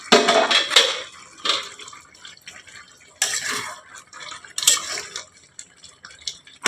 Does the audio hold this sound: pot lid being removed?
yes